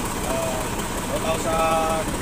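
An Isuzu 6W81 diesel engine runs steadily at idle with a dense, continuous rumble and faint tonal whine, holding an even level throughout, up close in a workshop.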